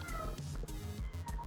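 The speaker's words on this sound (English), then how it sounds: "My cat is meowing a lot." A cat meows insistently indoors, a quick run of short, nearby cries in close succession with no talking.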